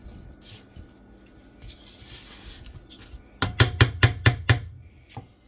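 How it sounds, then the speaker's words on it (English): A spatula scraping down the sides of a mixing bowl of lemon pound cake batter, soft rubbing strokes followed by a quick run of six or seven sharp taps against the bowl. "I am just going to scrape down the sides of the bowl"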